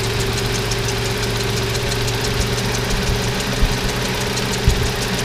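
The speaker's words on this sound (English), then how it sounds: "It's idling so much lower." A Toyota 3VZE engine idles low at around 800 RPM, giving a steady, even hum with a faint rhythmic knock throughout. No voices.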